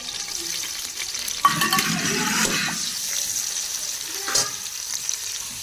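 Close, steady sizzling of crushed garlic frying in hot oil, with occasional stirring scrapes and crackles.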